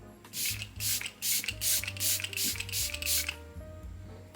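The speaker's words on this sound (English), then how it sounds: "I am gonna go ahead and spray some setting powder now." Setting spray misted onto a face during a glam makeup routine, a run of about eight short, close hissing bursts in quick rhythm, each a second or less, with faint background hum between them.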